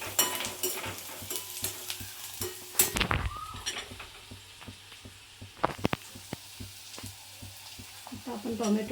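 Browned onion and chili fry in a pan with a busy sizzle, punctuated by frequent spatula clinks and scrapes, and a louder burst of crackling midway as more goes into the hot oil.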